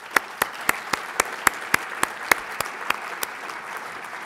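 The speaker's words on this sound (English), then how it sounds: "join me in a round of applause for everyone who's put this together" Conference audience applauding at a closing session, a steady wash of clapping with sharp individual claps standing out, moderately loud and continuous with no talk over it.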